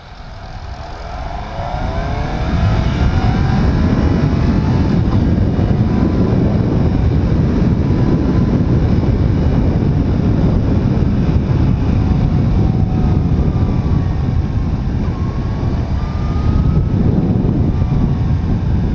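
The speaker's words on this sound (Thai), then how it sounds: "ได้ยินเสียงเครื่องก็แรงแล้ว" A Suzuki GSX-S750 four-cylinder motorcycle engine roars loudly and steadily, rising in pitch after a brief start and holding a dense, sustained rev with wind rush and no talk.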